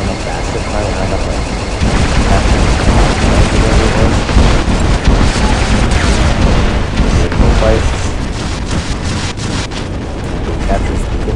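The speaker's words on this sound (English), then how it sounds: "You can see my turrets firing a lot faster." Rapid turret gunfire from a robot in the War Robots video game, a dense, continuous barrage of booming shots and blasts that stays loud and steady throughout.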